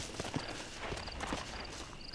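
Horse hooves clip-clop in the video game Red Dead Redemption, a few close, soft, uneven steps over a steady background.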